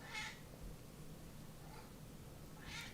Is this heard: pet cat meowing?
yes